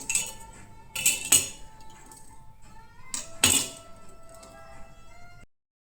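Washed kitchen utensils and pots clink and clatter as they are put away at home, in a few sharp metallic knocks among quieter rattles. The sounds are close, with faint background noise.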